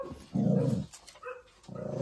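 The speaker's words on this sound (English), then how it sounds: "Dogs across the road are having a bark" Dogs across the road bark in two faint, distant bursts separated by a brief lull.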